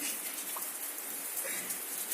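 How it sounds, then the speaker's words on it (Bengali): Steady rain falls and hisses across the scene as a constant broadband wash, loud and unbroken for the full stretch, with a faint bird note or two poking through and no talking. "বাপরে বৃষ্টি কত বলে"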